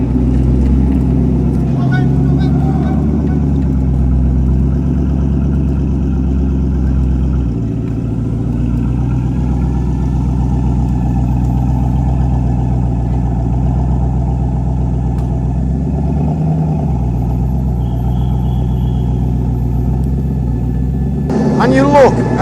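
A 1600 hp Bugatti Bolide hypercar at Sepang circuit gives a loud, steady engine rumble that swells and fades as it runs past, and a person talks over it.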